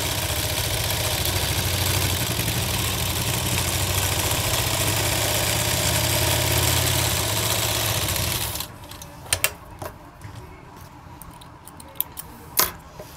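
A sewing machine stitches a sleeve for a kurti, a loud, continuous rapid whirr for about nine seconds before stopping abruptly, followed by quiet handling clicks and taps.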